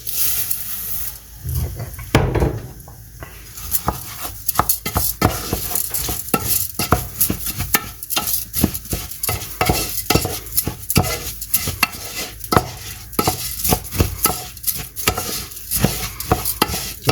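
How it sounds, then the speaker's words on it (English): Risotto rice stirred in a hot pan, with a steady stream of scraping strokes and light clatter over a soft sizzle, close up, fairly loud, and with no talking. "we'll add the risotto, and we're gonna stir that until everything's coated"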